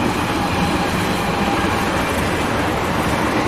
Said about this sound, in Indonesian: Karena ini makam ini berdekatan dengan kereta kereta api, jadi wajar kalau ada suara kereta.